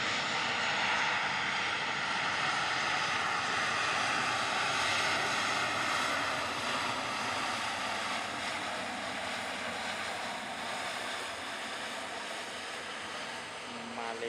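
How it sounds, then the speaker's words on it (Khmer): A Malaysia Airlines airliner arriving from Kuala Lumpur lands at Phnom Penh Techo International Airport, its jet engines a loud, steady broadband roar that holds throughout and eases slightly near the end. "នេះគឺជាយន្តហោះរបស់ក្រុមហ៊ុនអាកាសចរ Malaysia Airlines"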